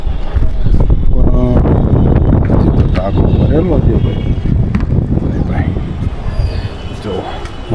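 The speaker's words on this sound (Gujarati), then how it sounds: "મસ્ત ઠંડો પવન છે" Steady, blustery cool wind on a rooftop roars and buffets close by, a continuous low rumble with people talking over it throughout.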